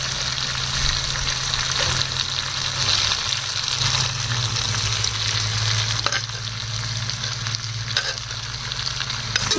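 Cooked rice stir-frying in a hot pan with sauces and vinegar makes a dense, continuous sizzle close by, over a low steady burner hum, with no talking.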